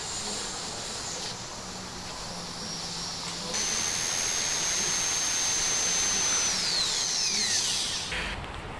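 Power drill boring into a door to fit a Europa 8013 lock, a steady whirring drone that grows louder midway and holds before winding down, alone without talk.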